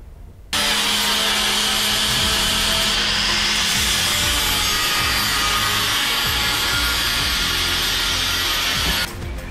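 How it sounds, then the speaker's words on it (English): Power grinder working down the passenger-side wheel well of an early 1966–1977 Ford Bronco front clip, a loud, continuous, close-up abrasive roar that starts abruptly and holds steady for several seconds before cutting off. "getting that all ground down over on that passenger side for the wheel well"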